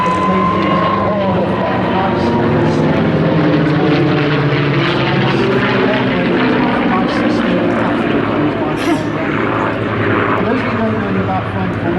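Propeller-driven WWII fighters flying in formation, among them a Thunderbolt, Mustang, Spitfire and Buchon, producing a loud, steady engine drone throughout with a voice talking over it.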